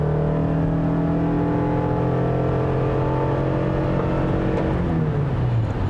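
A 2021 Toyota Sienna XSE hybrid minivan with all-wheel drive pulls away hard from a stop at full throttle, its CVT holding a steady, loud drone that rises gradually in pitch across the run, with no talking.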